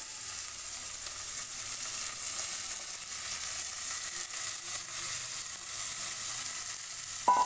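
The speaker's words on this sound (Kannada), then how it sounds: "ಈಗ ಈ ಹುರ್ಲಿನ ಸ್ವಲ್ಪ ಹುರ್ಕೋಬೇಕು ಎಣ್ಣೆಯಲ್ಲಿ ಹುರಿ ಕಡಿಮೆ ಇಟ್ಕೊಂಡು ಸ್ವಲ್ಪ ಹುರ್ಕೋಬೇಕಾಗುತ್ತೆ ಇವನ್ನ" Sprouted horse gram fries gently in oil over low heat, a soft, even crackling sizzle that holds steady throughout, ending with a brief clink.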